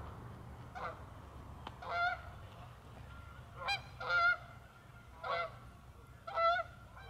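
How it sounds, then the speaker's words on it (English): A flock of geese honks while flying overhead, giving several faint, scattered calls at a distance, some single and some in quick clusters, over quiet outdoor background noise. "bunch of geese flying over."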